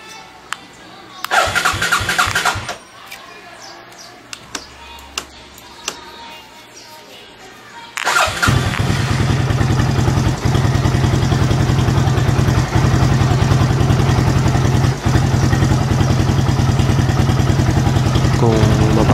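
An Athlete / Fury 125 motorcycle engine cranks, catches and settles into a loud, steady idle that runs for about eleven seconds, after a few seconds of quieter handling noises and short clicks.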